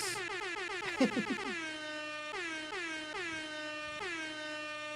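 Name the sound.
air horn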